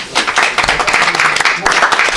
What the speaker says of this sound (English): I want you to carry on your big applause to all these people.